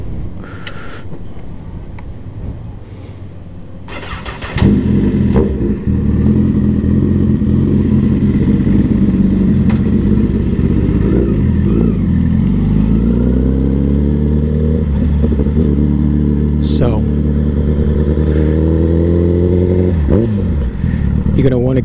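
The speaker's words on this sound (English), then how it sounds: "You're gonna want to get the bike up to a good speed, right? First gear right now. Grab the clutch. Second gear." A motorcycle engine idles low, then revs hard and climbs in pitch through first, second and third gear, each shift dropping the tone before it rises again, loud and close throughout.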